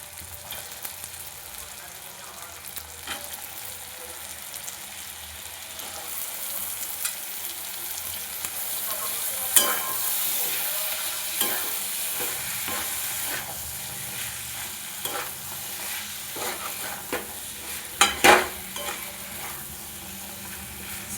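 Mutton ghugni with peas sizzles steadily in a pan, a continuous close frying hiss broken by occasional scrapes and clinks of a stirring spoon.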